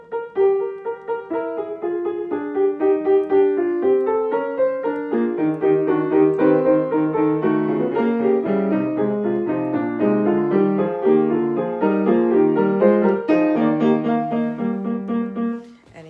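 Solo piano plays the fugue subject and countersubject from Beethoven's Diabelli Variations, several interwoven voices moving steadily, one chromatic line against repeated notes, sustained and clear for about sixteen seconds with no talking.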